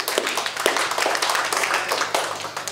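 At a community-building seminar, a group claps one another on the shoulder with a quick, irregular scatter of soft slaps and pats that stay close and fairly loud.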